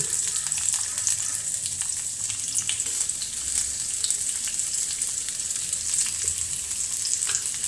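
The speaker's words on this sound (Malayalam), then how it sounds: "കുറച്ച് എണ്ണ ഒഴിച്ച് ഇതാ സവാള ഇട്ട്" Sliced onions frying in oil in a home kitchen: an even, moderately loud crackling sizzle that stays steady throughout, with light stirring clicks scattered across it.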